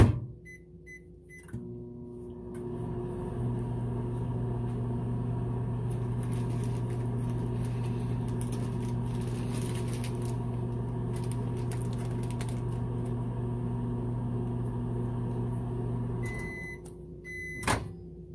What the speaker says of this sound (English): I'm gonna do microwave it for another 10